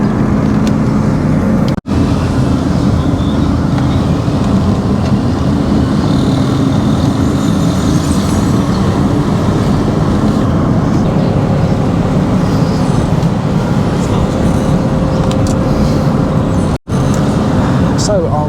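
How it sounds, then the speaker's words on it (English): Ride in a taxi through Dili, East Timor: a steady, loud rumble of engine and road noise fills the cabin throughout, with a couple of brief dropouts and no talk. "I'm now taking a taxi"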